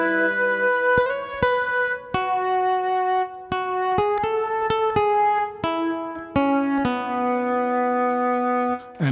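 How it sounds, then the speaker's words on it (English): A flute-like synth voice from a Boss GM-800 guitar synthesizer, with the guitar pickup still sounding, plays a clear melodic phrase of sustained, distinct notes with crisp attacks, alone and fairly close. "So I came up with this flute sound here."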